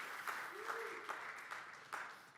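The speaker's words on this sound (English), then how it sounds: "can we get like a round of applause for them, please?" Faint conference audience applause after a tech talk, sparse scattered claps from a modest crowd heard at a distance, with a short voiced sound briefly over it.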